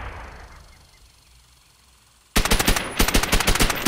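Rapid automatic gunfire in the video game Call of Duty: World at War, a loud burst of closely spaced shots that cuts in suddenly after a quieter stretch of low background noise.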